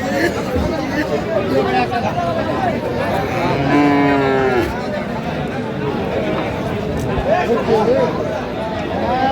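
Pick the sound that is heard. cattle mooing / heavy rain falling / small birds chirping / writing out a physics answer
cattle mooing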